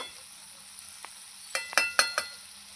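Mutton sautéing in a pan for kosha, a quiet steady sizzle with a few sharp clinks and scraping stirs near the end, close by and with no talk.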